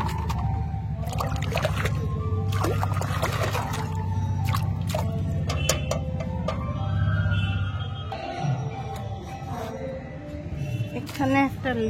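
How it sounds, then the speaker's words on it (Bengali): Freshly harvested, soil-covered garden vegetables rinsed with water outdoors: close, irregular drips, splashes and squishy handling sounds, with a voice heard at times. "ওগুলোকে একটু ধুয়ে নিই"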